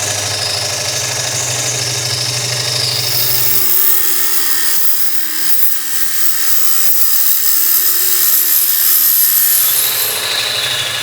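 A wood lathe turns a large salad bowl while a gouge makes a side bevel cut, giving a continuous loud rasping, scraping sound over a steady motor hum that drops away in the middle and then returns, with no voices.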